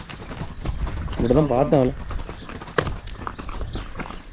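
Horse hooves clip-clop steadily up close during a horse trek arriving at a village of mud houses in Kyrgyzstan, while someone talks over the rhythmic steps.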